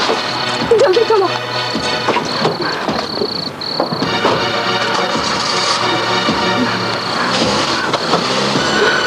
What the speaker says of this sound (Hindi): जल्दी से गाड़ी स्टार्ट करो, जल्दी